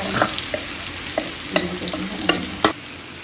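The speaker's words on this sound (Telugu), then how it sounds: "కలిపి పెట్టుకున్న ఉసిరికాయని ఈ తాలింపులోకి వేసుకొని కలుపుకుందాం." Amla gooseberries being stirred by hand into a hot garlic tempering for an instant pickle, with soft scraping and clacks of the spoon against the pan, a few sharper knocks near the end, and faint oil sizzle beneath, no talking.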